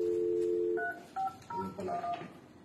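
Touch-tone DTMF dialing on an ordinary Cisco telephone: a steady dual tone, then a quick run of short separate keypad beeps at an uneven pace, close and clear with no talking.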